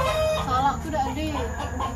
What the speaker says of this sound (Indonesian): Tuh ayam semua, guys.